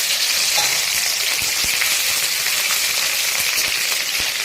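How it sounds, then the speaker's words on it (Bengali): Green chillies frying in hot oil, a steady close sizzle with scattered pops and crackles throughout, no voices. "এদিকে তেলটা কিন্তু গরম হয়ে গেছে। প্রথমে দিয়ে দেবো কাঁচা লঙ্কা"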